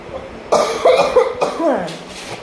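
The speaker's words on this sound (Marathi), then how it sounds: "मला खोकला येतो" A few harsh coughs in quick succession, close and fairly loud, with short pauses between them.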